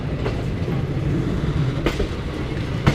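A Kolkata Jammu express with a failed locomotive stands at a station, a steady low rumble with a few sharp clanks and short metallic bursts rising over the continuous rail noise.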